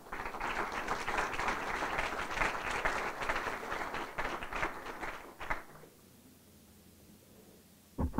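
An audience applauds at a memorial symposium to welcome a county supervisor to the podium, with a dense and steady wash of clapping that stops abruptly near the end, leaving a quiet room.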